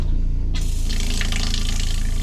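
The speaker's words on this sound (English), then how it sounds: "I have running water." A newly installed tap over a van sink is turned on, and water runs in a steady gushing stream close by after a brief quiet start, with no talking.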